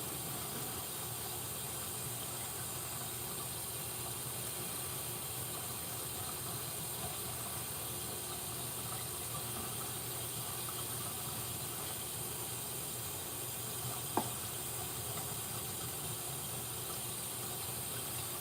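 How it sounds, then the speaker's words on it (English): Bacon sizzles in a pan as a steady, even hiss that runs throughout with no letup, apart from one faint click partway through. "let me just let that sizzle for a minute, because this is really difficult to get one piece of bacon off at a time"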